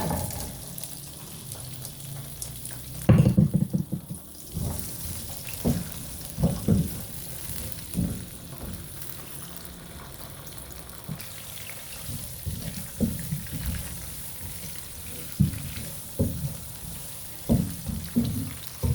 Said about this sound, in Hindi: अब सबसे पहले हमने जो ये ड्राई फ्रूट भिगोया था इसको हम इसमें थोड़ा सा फ्राई करेंगे।